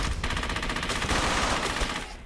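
Continuous rattling automatic gunfire in the WWII game Brothers in Arms: Hell's Highway, a close, loud, unbroken volley of rapid shots lasting the whole moment.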